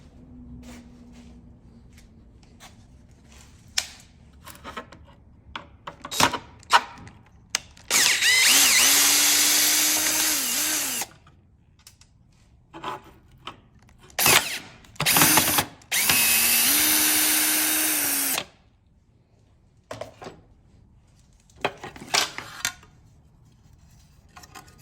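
A power drill backs screws out of a wooden buck used for shaping sheet metal, running in two sustained bursts of whirring, each a few seconds long. Scattered clicks and handling knocks surround the bursts, and no one speaks.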